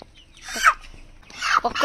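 A domestic chicken clucks and squawks in two agitated bursts close by, with a brief pause between them.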